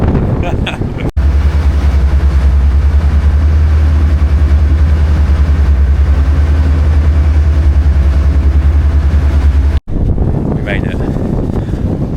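A steady low engine drone hums continuously, like a boat motor idling nearby, with brief bursts of wind noise at the start and end.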